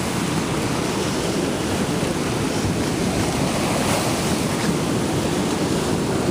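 Pacific Ocean surf washing over tide pools on the coast between Pismo and San Francisco, a loud, continuous roar of waves mixed with wind buffeting the microphone, with no voices.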